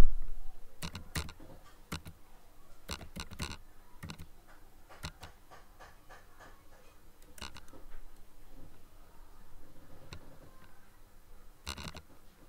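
Typing on a computer keyboard while entering data into a word processor table, with scattered clicks and short bursts of keystrokes over a quiet room background.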